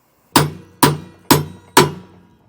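Four evenly spaced, loud, sharp hammer blows ring out one after another while a flathead screwdriver pries on a trailer bushing bolt being removed, each strike decaying quickly into silence.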